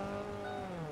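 A car driving in Fortnite, a steady engine drone with faint tire noise running continuously through a brief, moderately loud stretch.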